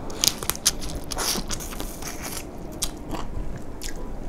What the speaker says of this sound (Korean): 그냥 껍질째 씹어먹고 뱉는 게 훨씬 나은 것 같아요.